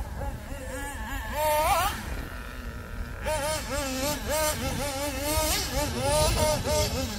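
A small nitro competition engine on an RC buggy, a Hobbytech NXT or Kyosho Inferno Neo 3.0, whines with a buzzing, wavering pitch that rises and falls as the throttle shifts, steady and fairly close.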